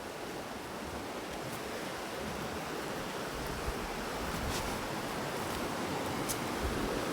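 Fast river current in Palin, Arunachal Pradesh roaring steadily nearby, a broad unbroken wash of rushing water with light wind buffeting and a few faint clicks.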